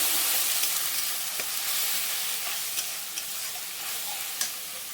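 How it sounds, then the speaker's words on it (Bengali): Onion paste frying in ghee for a prawn malai curry, a dense, even hiss of close sizzling with faint stirring scrapes and a few small pops throughout. "পেঁয়াজটা একটু ভেজে নেবো"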